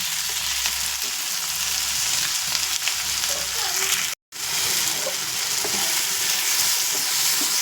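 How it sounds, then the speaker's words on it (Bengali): Tomatoes and chicken fry in a pan, a loud, steady hiss and crackle with stirring scrapes, cut by a brief silent gap partway through. "এবারে সব একসাথে ভালো করে ফ্রাই হোক, আর টমেটোটা একটু হালকা মেল্ট হয়ে যাক।"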